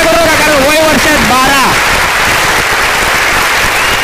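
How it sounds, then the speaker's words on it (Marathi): Loud sustained applause from a crowd at a cricket ground, dense and continuous throughout, with a raised voice calling out over the clapping at the start. "उभे आहेत त्यांनी सुद्धा टाळ्या वाजवा."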